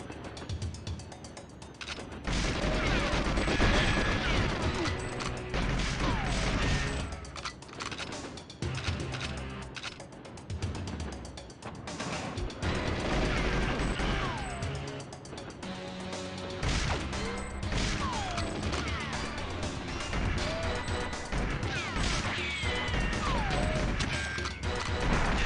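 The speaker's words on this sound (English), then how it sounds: "Oh, exploding boxes." Crates blow apart in GoldenEye 007 on the N64, a dense, continuous run of loud crashing blasts and clattering debris that barely lets up.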